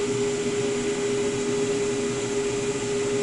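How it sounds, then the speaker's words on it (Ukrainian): A powerful 24-volt extraction fan runs on a homemade machine, giving a steady, even whooshing drone with a constant tonal hum, close and unbroken throughout with no voices. "від 24 вольт живиться витяжка. Вентилятор там стоїть, доволі потужний"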